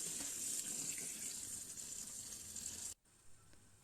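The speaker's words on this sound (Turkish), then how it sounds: "2 çay bardağı mercimek, 4 yemek kaşığı pirinç, 2 yemek kaşığı bulguru iyice yıkıyorum" Running tap water fills a bowl or sink while lentils, rice and bulgur are rinsed for soup, a steady close hiss and splash that cuts off abruptly near the end, followed by a faint clink.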